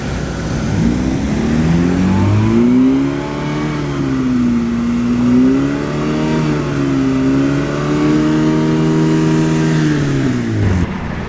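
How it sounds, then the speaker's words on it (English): A Citroen Saxo race car sits queued for noise testing at Oulton Park and revs up and down repeatedly. Its engine note rises and falls in smooth, loud sweeps before cutting off at the end. "many Citroen Saxos are all queuing up for the noise testing at the moment"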